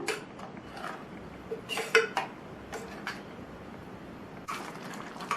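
A utensil scrapes and clinks against a cooking pot in irregular strokes, stirring payasam after coconut milk is added, fairly close, over a low steady background hiss.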